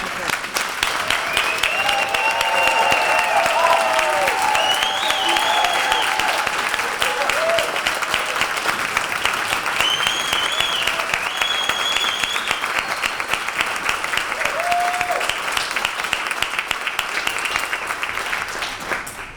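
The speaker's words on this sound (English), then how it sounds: "could all of our recipients stand one more time for a big round of applause from the group" Audience at a Farmington Public Schools awards ceremony gives recipients a long, loud round of applause, dense clapping sustained throughout with cheers and voices rising above it.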